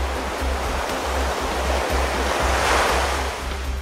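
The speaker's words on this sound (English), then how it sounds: "a large wave crashed over him" A large wave crashes in a toy-train story scene, a loud, close roar of surf and rushing water that swells and holds for a few seconds without pause.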